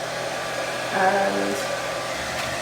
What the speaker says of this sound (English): You can either leave them to dry, or you can use a hairdryer.